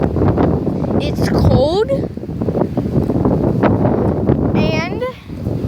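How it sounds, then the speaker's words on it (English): Strong, steady wind buffets the microphone outdoors in Florida after a hurricane, a constant rushing roar that runs under a person talking throughout. "I'm literally getting pulled away by the wind"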